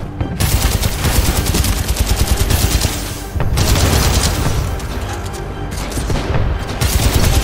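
Rapid gunfire from the video game Titanfall 2 rattles in loud, dense bursts of automatic shots and booms, briefly pausing before resuming, with no speech.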